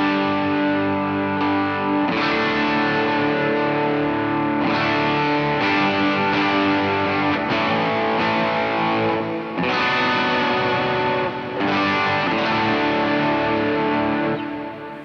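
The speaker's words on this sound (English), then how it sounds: "I'm gonna turn off the delay. This is just the reverb." An electric guitar played through a reverb pedal with the delay switched off rings out in distorted chords and sustained notes, each strum followed by a wide wash of lingering tail, loud and close, with no talk.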